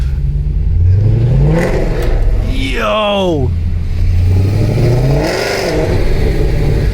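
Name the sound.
Mercedes W204 C63 AMG exhaust with X-pipe revving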